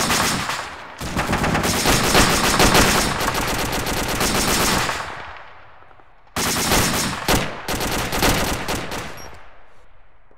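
Loud, sustained bursts of automatic gunfire, rapid machine-gun rattle that cuts off abruptly, then resumes after a short pause in a second volley, with no talking over it.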